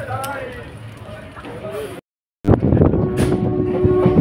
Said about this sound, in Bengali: ট্রেন হাওড়া ঢুকছে